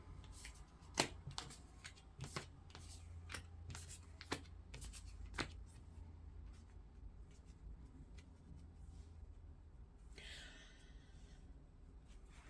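Tarot cards being shifted and shuffled during a pick-a-card love reading, heard as a run of soft, sharp card snaps and taps near the start, then a quiet stretch and a brief papery riffle near the end.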